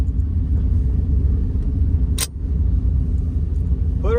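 A turbocharged Dodge Dakota R/T pickup idles in a drag-strip burnout box, its engine rumbling low and steady throughout, broken once by a brief sharp click near the middle.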